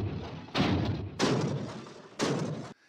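A car crash sound effect from a SoundFont/DLS synth player app plays as three heavy, loud impact bursts about a second apart, each a broad crunching thud that decays quickly.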